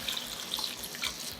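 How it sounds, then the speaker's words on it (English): Water poured into a pan of tofu stir-fry with broccoli and oyster sauce, a steady close splashing hiss that runs for a second and a half. "Add 200 to 300 milliliters water"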